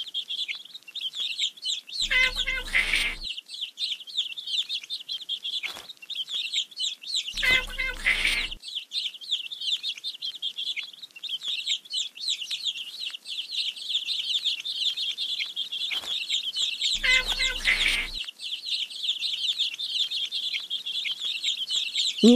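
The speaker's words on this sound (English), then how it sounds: "Let's feed the hungry baby birds with some seeds." Hungry baby birds in a nest chirp continuously with high, rapid peeps while being fed seeds, broken by three brief louder bursts.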